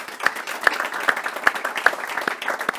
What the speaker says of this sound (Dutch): Mag ik een daverend applaus voor Jan Berendsen?